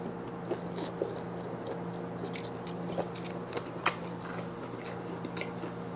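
Squid legs being chewed close up, soft crunchy bites and wet mastication repeating irregularly over a low, steady background hum.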